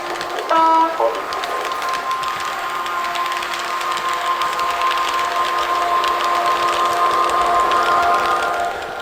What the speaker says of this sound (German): Das Fahrgeräusch des Originals ist gut getroffen, klingt allerdings etwas höher